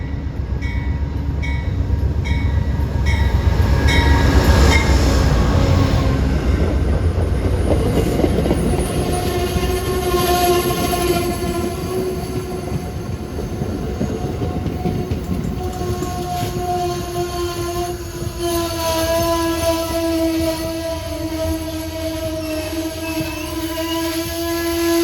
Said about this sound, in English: here comes Amtrak 80, the Carolinian from Charlotte to New York